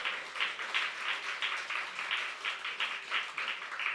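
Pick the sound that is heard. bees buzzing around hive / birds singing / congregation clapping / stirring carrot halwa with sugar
congregation clapping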